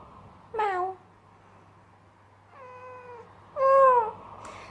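A ragdoll cat meows three times at close range, separate drawn-out calls with quiet pauses between them.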